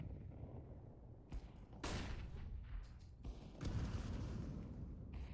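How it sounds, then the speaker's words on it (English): A flashbang grenade detonating in a video game, heard as a few sharp broadband bursts over steady game noise. "Throwing flashbang."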